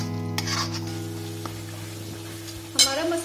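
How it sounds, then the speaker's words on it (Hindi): A masala of ground onion, tomato, ginger and garlic sizzles in a pan while being stirred, a steady close frying hiss with a constant hum beneath and a few sharp utensil scrapes and knocks. "पिसा हुआ प्याज, टमाटर, अदरक, लहसुन डालेंगे। इस मसाले को हमें 3 से 4 मिनट भूनना है"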